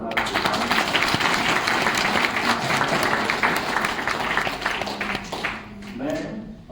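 An audience claps loudly and steadily at a gathering on yoga, naturopathy and nutrition education, the applause tapering off near the end as a voice begins to speak.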